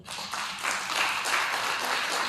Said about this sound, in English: I think you, the children, give your parents a round of applause